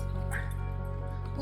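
A dog gives a quick yip or short bark during a camping trip at a KOA cabin site, brief and close over a steady low hum, with someone talking nearby.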